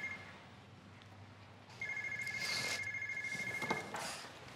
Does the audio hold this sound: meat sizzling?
no